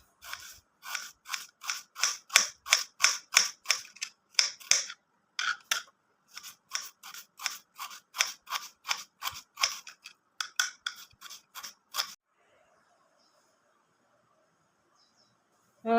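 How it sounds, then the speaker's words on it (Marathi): A kitchen knife slicing onions lengthwise for chicken dum biryani, with crisp, rapid, evenly spaced chops close by for about twelve seconds, a brief pause midway, then quiet. "यासाठी उभा कांदा चिरून घेऊ आपण"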